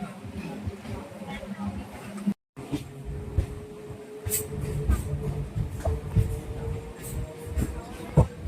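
A train rumbles at a station on the Sealdah–Namkhana line with a low steady hum, scattered clanks and background chatter, under nearby talking.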